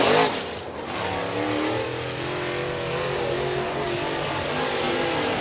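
Dirt late model race car at Boyd's Speedway on a qualifying lap, its engine roaring loud and close before settling into a sustained droning howl as it circles the track.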